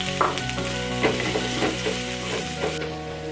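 Carrots and onions sizzle and crackle in a hot pan while being stirred, a loud steady frying hiss close by.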